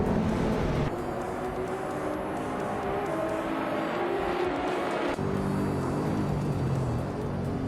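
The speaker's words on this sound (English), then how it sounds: "the race at Österreichring Vintage is underway" Race cars roar off the line at the start of a video game race at the Österreichring Vintage circuit, with a 2012 Vauxhall Astra on pole; a loud, steady, dense engine drone carries throughout.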